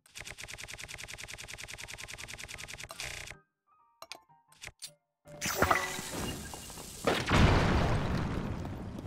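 Bomb explosion in The Legend of Zelda: Tears of the Kingdom, a sharp game blast with a bright noisy burst and rumbling tail that follows a rapid rattling mechanical pattern and a short silent gap.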